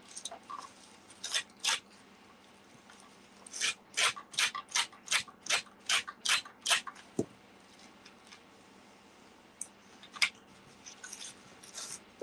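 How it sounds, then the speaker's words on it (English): A nail file rasping along the damp edges of paper in a crafting session, quiet scratchy strokes that come in a quick run of about ten rhythmic swipes, with scattered strokes before and after. "So I'll get a nail file and do the parts on the inside."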